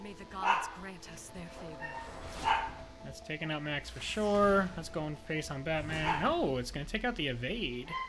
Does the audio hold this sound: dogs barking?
yes